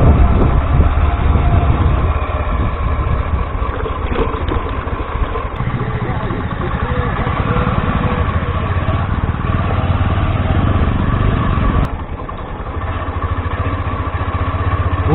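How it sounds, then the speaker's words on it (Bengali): A 125cc motorcycle ridden off-road on a badly broken road near Lava and Siliguri, its engine droning loud and continuous at close range with rough rumbling throughout. "125 নিয়ে পুরো অবরোডে রাইড করছি এখন"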